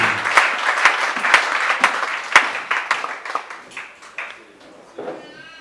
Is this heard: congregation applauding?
yes